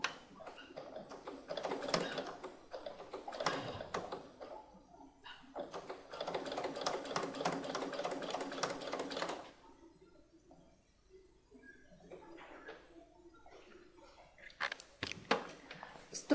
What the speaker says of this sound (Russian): И будем настрачивать молнию.